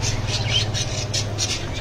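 Pet birds such as budgerigars and cockatiels squawk at a bird market, sharp repeated calls bursting out every fraction of a second over a steady low hum of crowd and background noise.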